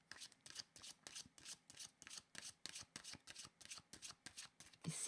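Tarot cards are shuffled in a quick, even rhythm of soft riffling flutters, about three per second, close and fairly quiet.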